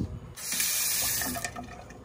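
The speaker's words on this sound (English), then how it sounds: "Running water." Water runs steadily from a kitchen tap in an abandoned hotel room, a bright continuous hiss that starts abruptly after a brief pause and holds at a close, even level before easing slightly.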